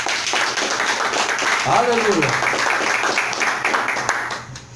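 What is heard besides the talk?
congregation clapping hands in church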